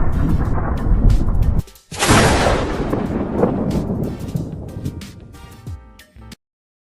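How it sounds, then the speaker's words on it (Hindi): A loud, close crack of thunder bursts out and rolls away over a steady wash of heavy rain, ending abruptly. "बाहर मूसलाधार बारिश हो रही है और बिजली कड़क रही है।"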